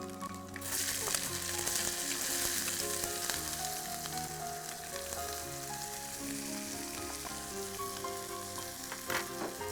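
A steady sizzle of onions and whole garlic frying in a hot pan, crackling continuously at close range with faint tonal sounds in the background.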